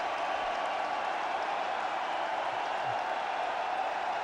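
A cricket crowd at Kanpur during an India versus England one-day match roars for a batsman's half century, a steady, distant wash of cheering and applause across the ground.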